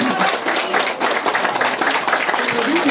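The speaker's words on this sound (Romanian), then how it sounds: "Haideți să-l aplaudăm pe maestru Marinica Botea." Audience applause at a seniors' evening event in Nicolina, Iași, honoring maestro Marinica Botea: dense, steady clapping from many hands, loud and continuous, with a voice faintly underneath.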